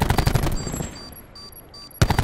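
Rapid bursts of automatic gunfire in a 3v3 Call of Duty-style match on the Arsenal map, loud at the start, dropping to quieter distant shots and room noise, then returning sharply at the end.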